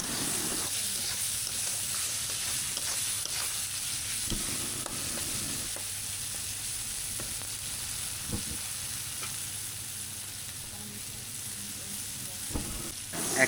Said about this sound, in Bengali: এবার আস্তে আস্তে নাড়তে থাকবো, মিক্স করে নিব হলুদ আর লবণটা।